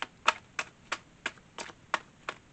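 Tarot cards being shuffled during a reading, seven evenly spaced crisp snaps about a third of a second apart, close and fairly quiet against a hushed room.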